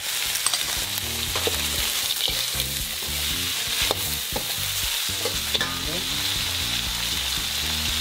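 Chicken, spring onion and peanuts stir-fry in a hot pan for kung pao chicken spaghetti, a steady sizzling hiss broken by frequent scraping and tossing clatters, close and without talk.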